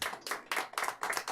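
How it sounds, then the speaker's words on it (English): Audience at an author program in the Poison Pen Bookstore claps in several quick bursts of hand claps, close and fairly loud, with short gaps between them. "You applauded."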